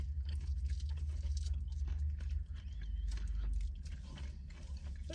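Crunching on caramel snack treats, close-up chewing with repeated crisp crunches over a low rumble, fairly faint and without talking.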